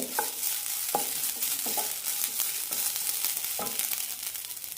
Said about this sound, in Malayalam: ഉലുവ നന്നായി ചോക്കുമ്പോൾ തേങ്ങ ഇട്ട് കൊടുക്കാം